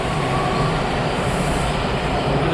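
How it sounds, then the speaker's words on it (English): A metro train passes on the opposite track, a continuous close rumble and rail hiss holding evenly throughout with no talking. "There's a train going the other way,"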